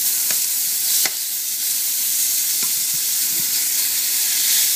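Steak sizzles and fries in a hot pan as it is turned over, a steady bright hiss with a few soft knocks and scrapes.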